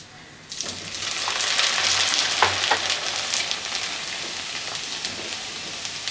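Sago pearls (sabudana) frying in hot oil at home for a sabudana mixture snack, a steady close sizzle with crackling bursts that swells after a quiet start and holds loud for several seconds, no talk.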